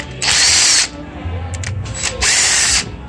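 A power drill takes out the coil bolts on a Volvo 2.0L engine with two close, loud whirring bursts, separated by a brief pause filled with a low rumble and small clatter.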